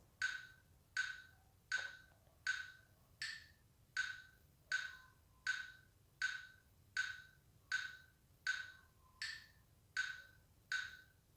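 Steady electronic metronome app clicks, eight beats per bar, about fourteen evenly spaced ticks at a moderate tempo, clear and alone over faint low hum.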